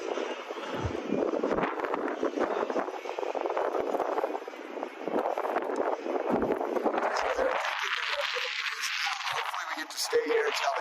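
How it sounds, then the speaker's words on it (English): Steady wind buffets outdoors at a truck convoy stop in Hagerstown, Maryland, a continuous broadband rush that holds for about eleven seconds, with a low engine-like drone rising near the end. "That wind's perfect."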